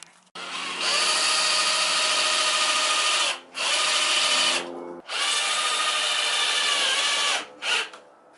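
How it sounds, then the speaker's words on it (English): A power drill bores holes into a Lexus LS400 car bumper for self-tapping screws, running in long loud whining bursts with brief pauses between them and a short final blip. "I'll drill out pretty much where we're going to put self-tappers into here"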